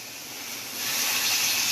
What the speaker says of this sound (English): You can see the sizzling sound and the effect.